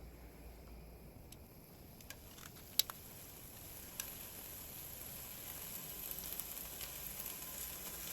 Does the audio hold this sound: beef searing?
yes